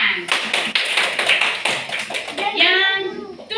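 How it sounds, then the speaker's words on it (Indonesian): Classroom clapping for a student, a burst of quick hand claps from children and a teacher, fairly close and lively, with a voice chattering near the end. "Ya, tepuk tangan untuk Firkan."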